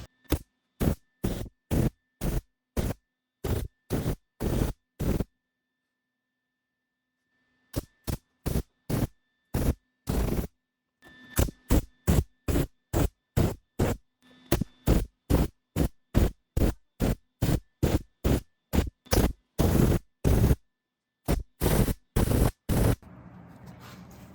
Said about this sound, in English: I'm gonna weld these now